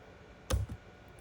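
A single sharp mouse click close to the microphone, with a softer second tap right after it and quiet surroundings.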